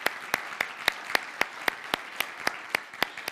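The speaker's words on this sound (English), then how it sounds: "So I'd like to give all of them a round of applause." A handful of sharp, evenly spaced claps ring out at a steady rhythm, as from a small audience or single person giving a round of applause at a talk on self-advocacy.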